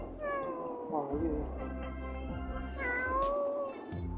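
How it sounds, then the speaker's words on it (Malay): A cat meows close by, two drawn-out, rising-and-falling cries about two seconds apart over a low background hum. "Kucing lagi. Banyak betul kucing kat sini ya."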